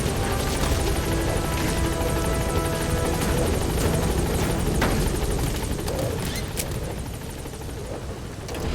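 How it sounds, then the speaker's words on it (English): A support helicopter arrives in Metal Gear Solid 5: a loud, continuous rotor roar with a steady thrumming beat fills the whole clip, then eases slightly toward the end. "Support helicopter has arrived."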